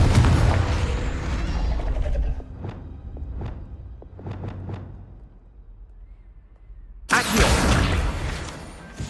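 A Confringo fire spell detonates in the video game Hogwarts Legacy: rumbling ambience and scattered soft thumps give way to a sudden loud, close, broadband blast that fills the last two seconds.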